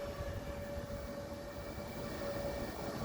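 A photovoltaic inverter's pair of cooling fans hums steadily, a constant droning whir with a faint steady tone on top, close and unbroken, with no talk.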